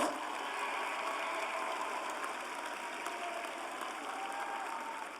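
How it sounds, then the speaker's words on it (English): Faint, distant audience applause in a large hall at the Florida State College at Jacksonville commencement ceremony, a continuous even patter of clapping sustained across the whole clip with no voices over it. "Let's give them all a round of applause."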